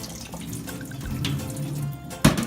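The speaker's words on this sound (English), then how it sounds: "With this mackerel, you just run cold water." Cold tap water runs into a kitchen sink over mackerel in a steady, close splashing stream, with a short knock near the end and no talk.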